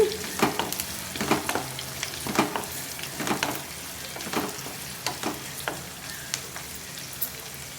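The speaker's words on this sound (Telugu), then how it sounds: "ఉల్లిపాయ చక్కగా గోల్డెన్ కలర్ వచ్చేదాకా ఫ్రై చేసుకోవాలండి" Sliced onions and green chillies frying in oil until golden for an okra dish, a steady close sizzle punctuated by rhythmic scraping stirs of a spoon against the pan, with no voices.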